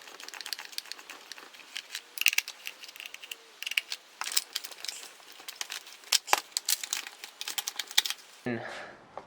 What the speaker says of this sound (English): Now what I'm going to do is undo the Torx head screws here.